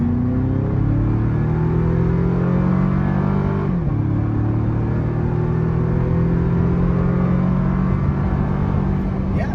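A Toyota 4Runner TRD Pro at wide-open throttle in sport mode gives a loud, steady engine drone that climbs in pitch, dips briefly at a gear change, then rises again, with no voices over it.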